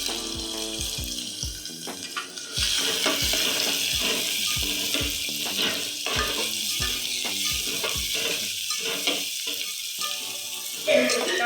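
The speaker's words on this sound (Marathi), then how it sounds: "तेल गरम झालं याच्यामध्ये एक कांदा टाकूया" Finely chopped onion tipped into hot oil for a homestyle toor dal amti, a bright sustained sizzle after a few dull knocks, steady and close, with a voice speaking over parts of it.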